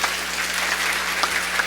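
A church congregation breaks into strong applause for the Lord during a priest's sermon, a loud, dense, even patter of many hands clapping throughout.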